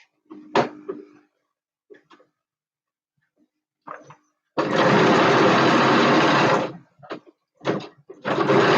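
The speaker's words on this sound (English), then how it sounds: "The sewing machine's like, why are we sewing over to something this weird?" A sewing machine runs in a loud continuous burst for about two seconds, then a few short stitching bursts follow, with scattered thumps and handling noises around it.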